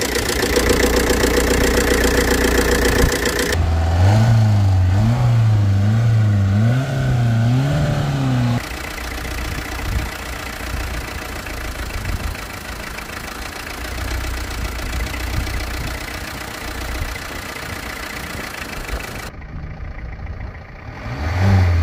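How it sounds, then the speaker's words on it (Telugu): A car engine running smoothly after decarbonization, a steady mid-pitched hum with a brief rising rev early on, close and fairly loud with no talk over it. "ఇంజన్ నాయిస్ కూడా తగ్గింది"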